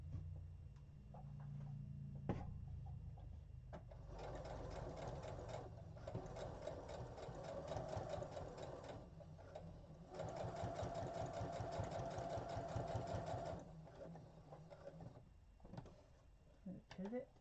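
Sewing machine stitching fabric forward then back-stitching, a steady fast needle chatter in two long runs with short pauses, and a quiet voice speaking between them.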